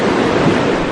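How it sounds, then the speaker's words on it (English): Pacific Ocean surf on a Hawaii beach, a steady close wash of breaking waves and wind with no voices. "My first time in the Pacific Ocean."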